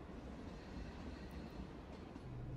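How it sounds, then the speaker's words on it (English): A train in the video game Echoes of Aetheria, a steady low rumble of rolling carriages heard faintly, continuous and unchanging with a soft hiss on top. "And the train stops."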